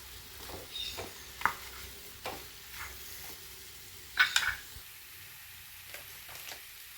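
Beef fry seasoned with pepper powder is stirred in a pan, giving a soft continuous sizzle broken by a few sharper scrapes and clinks of the spoon, close by with no talking.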